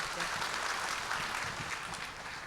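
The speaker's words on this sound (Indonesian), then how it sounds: "tepuk tangan dong buat Tuhan Yesus." A church congregation claps together during a service, a dense, even wash of applause that holds for a couple of seconds at a moderate distance.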